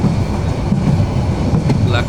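A passenger train runs along the line from Dhaka past Laksam toward Cox's Bazar, its steady rumble and rolling wheel noise loud and continuous throughout, with brief higher squeals near the end.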